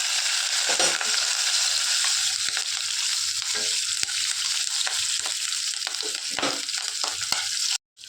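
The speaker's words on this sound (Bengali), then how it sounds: "রসুনটা আগে হালকা ফ্রাই করে ভেজে নিয়েছি এই যে কাঁচা লঙ্কাটা দিয়ে দিলাম" Green chilies dropped into hot oil with lightly fried garlic, sizzling loudly and steadily with crackling bursts throughout, cut off abruptly near the end; no talking.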